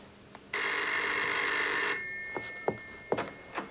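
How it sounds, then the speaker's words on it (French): An old-style telephone bell rings loudly and steadily for about a second and a half, then cuts off and leaves faint knocks and shuffling in a room. "Téléphone."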